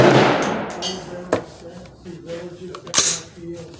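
A Smith & Wesson M&P15 rifle fired at a 100-yard target during barrel break-in, giving sharp cracking reports, a softer one and then a louder one, separated by quieter outdoor background.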